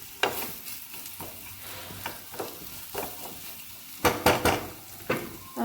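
A spatula stirs khichuri in a pan over a soft sizzle, making repeated close scrapes and clinks against the metal, with a louder cluster of strokes near the end.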